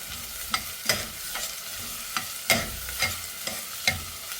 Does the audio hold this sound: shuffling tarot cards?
no